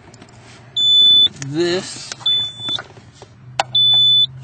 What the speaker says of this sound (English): Let's get rid of this beeping.